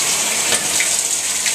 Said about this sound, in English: Open that and the water starts pouring in.